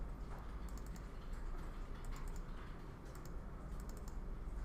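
Steady keyboard typing on a computer, a run of quick clicks and key taps close by over a constant low hum, with no talking.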